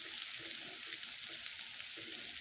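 Chopped garlic fries in a generous amount of oil for moussaka, giving a soft, steady crackle that holds evenly throughout, with a small knock at the end.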